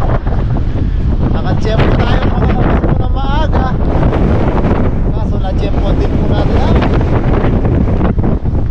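Someone talks over a heavy, steady roar of strong sea wind pounding the microphone on an early-morning fishing outing, the gusts loud and unbroken beneath his voice.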